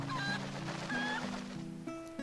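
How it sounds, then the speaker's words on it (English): A golden cuckoo clucks and honks in the video game The Legend of Zelda: Twilight Princess, a close series of several nasal, goose-like calls in quick succession with no voices. "A golden cuckoo?"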